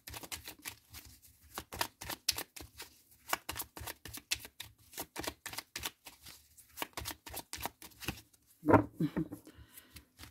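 Tarot cards being shuffled and drawn: a long run of soft, quick flicks, snaps and riffles at close range, with a louder flurry near the end.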